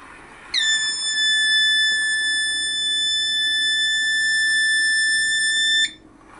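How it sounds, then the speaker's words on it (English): A loud, steady electronic emergency buzzer on a train control system with a harsh buzzing edge sounds continuously for about five seconds, then cuts off abruptly. "the train will gradually stop and the emergency buzzer will turn on"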